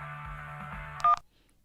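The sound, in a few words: telephone call sound effect in an audiobook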